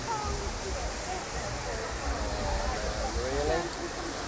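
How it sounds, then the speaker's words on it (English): Broad, steady rushing of a waterfall at a theme park, a continuous wash of noise throughout with voices talking over it. "this waterfall is always fun to see"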